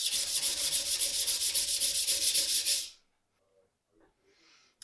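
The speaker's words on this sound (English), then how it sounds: "So I'm actually going to sharpen this part a little bit lower than this part of the kireha." Japanese kitchen knife bevel being sharpened on a stone, a close, loud, rhythmic scraping of back-and-forth strokes for about three seconds that stops abruptly, followed by faint small handling sounds.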